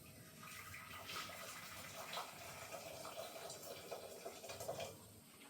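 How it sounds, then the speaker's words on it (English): Boiling water poured into the bottom of a small pan, a soft continuous splashing and gurgling stream, faint and steady throughout with no talking. "Put some boiling water in the bottom here."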